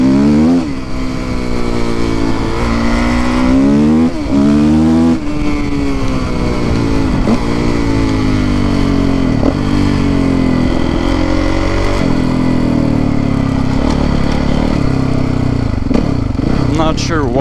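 A Kawasaki KX450F dirt bike, nearly stock with Pro Circuit parts, is ridden on a trail by a creek. Its engine is loud and close, revving up and down in repeated swells throughout.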